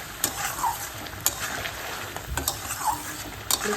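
Egg curry made with three eggs sizzles in a pan while a utensil stirs and scrapes through it, with steady frying hiss and periodic sharp scraping strokes, close by.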